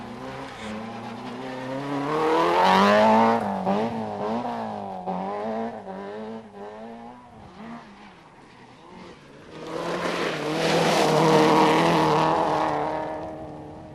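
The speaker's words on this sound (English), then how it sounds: "After this high-speed slide, he rolled the Astra while in the lead and failed to finish." A 1989 Astra rally car screams through a high-speed slide on a national championship stage, its engine note rising and falling with gear changes before it fades, then swells loudly again as it passes close.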